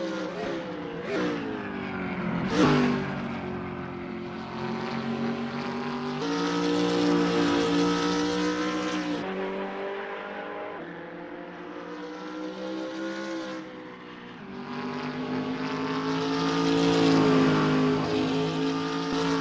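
BMW Z4 race cars lapping in the Assetto Corsa racing game, a steady loud engine drone with rising and falling revs and gear changes, several cars close together, no talking over it.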